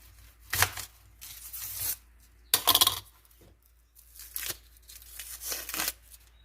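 An onion being peeled by hand, with several separate bursts of papery tearing and crackling skin, close and fairly loud with quiet gaps between them.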